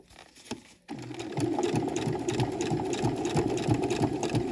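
After a brief quiet start, a sewing machine stitches a backpack seam in a fast, steady, close mechanical whir with rapid needle rhythm.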